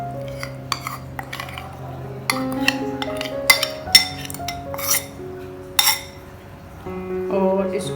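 A utensil mixes ingredients in a bowl for a paratha, giving irregular close clinks and scrapes against the dish with short pauses between bursts, under a faint voice.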